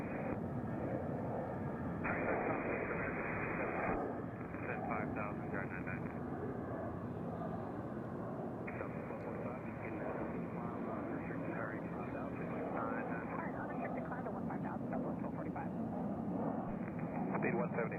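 Southwest Airlines jet airliner in special livery at Nashville International Airport, a steady distant engine roar, with radio chatter from air traffic control breaking in intermittently.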